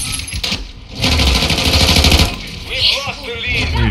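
Loud automatic gunfire in Modern Warfare 2, a sustained rapid burst of shots followed by shorter rattles and clinking, with a voice briefly heard.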